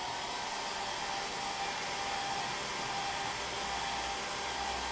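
A hair dryer blows steadily on fresh paint, a constant loud airy roar with motor whine that stays even from start to finish.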